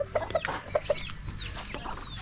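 Turkeys on a rural property in Carmen, Agusan del Norte give several quick, close clucks in a burst at the start, then fainter calls continue against soft outdoor background noise.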